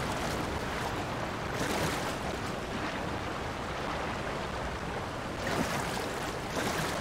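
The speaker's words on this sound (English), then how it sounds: "Two waterfalls." Twin waterfalls in the video game The Legend of Zelda: Tears of the Kingdom roar in a loud, constant rush of water that swells slightly at times, with no one talking.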